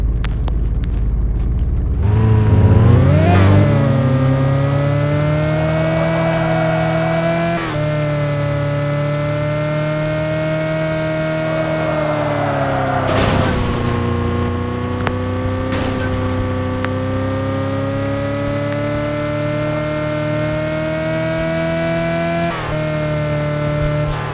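A one-door BMW car engine in the mobile game Car Parking 3D starts up, revs and then holds a loud, steady synthetic drone with a few pitch shifts over about twenty seconds, with no talk.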